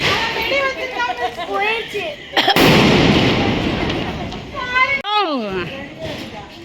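Diwali firecrackers burst in a couple of loud, sharp cracks amid excited voices talking nearby.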